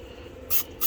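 Two short bursts of cooking oil spray hiss onto a pan, close and fairly loud, separated by a brief pause over a quiet background.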